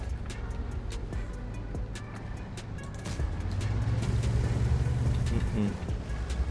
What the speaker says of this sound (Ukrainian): О, панцерник їде.